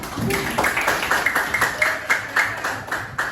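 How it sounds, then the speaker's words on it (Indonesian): A small group claps together in a steady, even rhythm for a few seconds, close and fairly loud, with no talk over it. "tepuk tangan buat kita"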